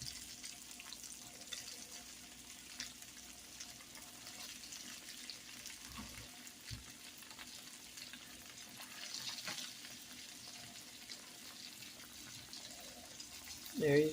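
Portabella mushroom pieces fry in an oiled skillet, a low, steady sizzle with light stirring and clatter throughout, rising briefly near the end.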